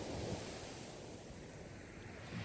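Sea waves wash onto the shore in a soft, steady roar of surf with a faint swell at the end, distant and quiet, with no voices.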